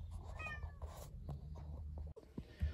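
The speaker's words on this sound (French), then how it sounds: "Oui mon petit chat, oui." Inside a van, a cat gives a drawn-out meow followed by softer, shorter mewing calls, close and fairly loud against low background rumble.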